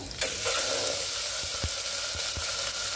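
Mutton sautéing in a pan with bay leaves and crushed ginger-garlic, a loud continuous hiss and sizzle with a few soft thuds of stirring scattered through it, nearby and alone.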